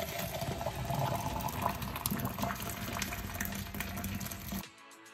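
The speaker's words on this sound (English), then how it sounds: "To sterilise the equipment, I'm going to pour boiling water onto it." Boiling water pours onto yoghurt-making equipment in a steady, rushing splash for several seconds, close and hissing, then cuts off abruptly.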